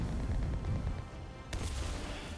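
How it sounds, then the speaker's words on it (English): A grenade goes off in the war game Enlisted: a sharp blast cuts in after a stretch of rumbling low battle noise, followed by continued distant booming. "There's a grenade there."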